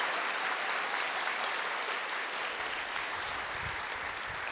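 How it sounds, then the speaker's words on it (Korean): Steady applause from a church congregation in a Korean church service, filling the whole stretch as a dense, even wash of clapping. "우리 진심으로 감사의 마음을 박수로 표현하기 바랍니다"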